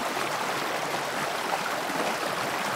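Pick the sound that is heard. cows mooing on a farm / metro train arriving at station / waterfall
waterfall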